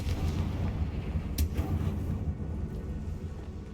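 Confringo fire spell blast in the Hogwarts Legacy video game, a deep rumbling explosion with a sharp crack near the middle, heavy and booming, then fading into a low roar.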